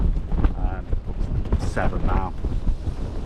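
Wind buffeting the microphone with rolling surf on Chesil Beach during a night of cod fishing, a constant loud roar under someone talking.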